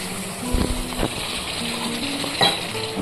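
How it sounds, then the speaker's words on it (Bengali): A little water, about half a cup, added to spices sizzling in a pan for a winter dish of eggs and cauliflower: a continuous hiss and sizzle with a few close taps and scrapes of a utensil against the pan. "এবার আমি এতে অল্প করে একটু জল অ্যাড করে দিলাম"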